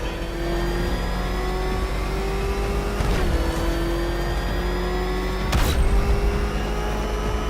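Batmobile engine from Batman Arkham Knight during a Riddler's Revenge challenge, a steady, loud, close revving drone with sustained tonal whine, swelling in two brief surges partway through.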